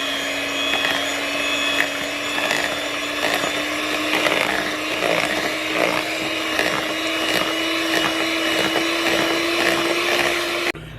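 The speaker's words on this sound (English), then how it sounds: "here's the blender part, and it's going to mix this all together real good" A blender mixing oatmeal banana bread batter whirs continuously at high speed, its motor pitch rising slightly as it runs, loud and close, then cuts off at the end.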